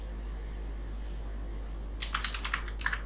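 Quiet low hum for about two seconds, then a short burst of close keystrokes on a computer keyboard, light and rapid, with no talking.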